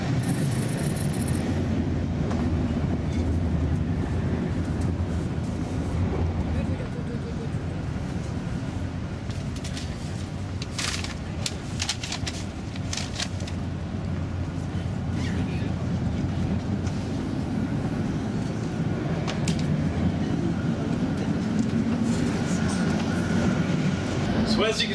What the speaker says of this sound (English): I don't want to disturb the people as they're riding along the train